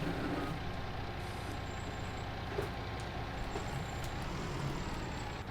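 A farm truck in Farming Simulator 19 backs up a header trailer for a Lexion combine header, with a steady low engine drone and faint intermittent reversing beeps, no talking.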